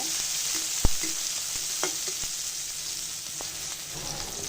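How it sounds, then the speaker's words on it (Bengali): Chopped onion and green chillies crackle in hot oil in a pan for chicken pasta, a continuous near sizzle broken by sharp spatula taps and stirring clicks. "কাঁচামরিচ পেঁয়াজটা একটু ভেজে নিব।"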